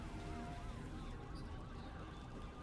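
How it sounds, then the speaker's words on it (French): Faint wailing sirens drift in the distance, their rising and falling tones barely audible beneath a low, steady rumble of background noise. "J'entends des sirènes."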